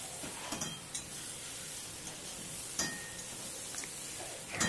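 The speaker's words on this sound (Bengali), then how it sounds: "মশলা থেকে যখন তেল ছেড়ে দেবে তখন আমি এর মধ্যে দিয়ে দেব ভেজে রাখা আলু আর ফুলকপি।" Fried potatoes and cauliflower go into hot spice oil in a pan for a Bengali tangra fish curry, giving a steady sizzle with a few soft stirs and clinks of a utensil against the pan.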